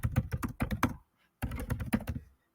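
Rapid keystrokes clatter on a computer keyboard as text is typed, in two close, dense bursts with a brief pause between them.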